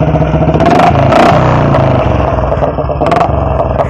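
An old Royal Enfield Bullet motorcycle idles with one exhaust connected and the other disconnected, producing a loud, close, heavy rhythmic thump with clattering mechanical noise and a brief rev, steady throughout.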